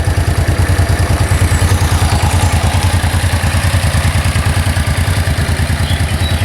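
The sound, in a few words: motorcycle engine idling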